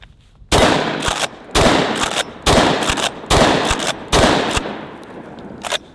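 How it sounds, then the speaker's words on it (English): Five loud, close shotgun blasts from a semi-automatic Benelli come in a steady rhythm about a second apart, each followed by a short ringing decay. A fainter clack sounds at the end, and no one speaks. "All right, shoot the Benelli again."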